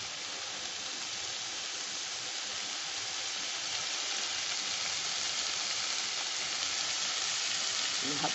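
Masala fries and sizzles in a pan as it is stirred, a steady quiet hiss throughout with a faint scrape of stirring near the end.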